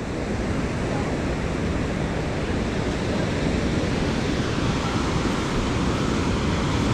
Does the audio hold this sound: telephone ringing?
no